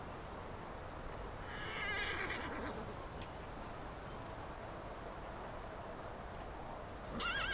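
A horse on a farm whinnies in a short high, wavering call near the start, then another rises at the very end, both over steady outdoor background noise.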